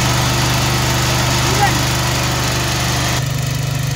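A biogas generator (genset) engine runs steadily at idle with a low, even droning hum and constant vibration, close and loud throughout with no pauses.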